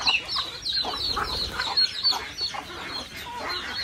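Free-ranging backyard chickens cluck steadily in a close flock, with short overlapping clucks and calls over an outdoor background, and no talk.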